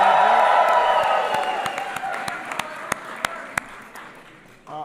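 A large crowd claps and cheers at a political speech event for Pride Month. The dense applause fades to scattered, distinct claps, and a voice starts up briefly at the end.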